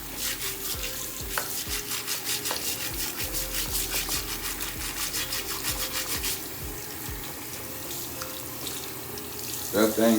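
Running tap water splashes over hair brushes and durags being scrubbed in a sink, a continuous close rush with rhythmic scrubbing strokes throughout.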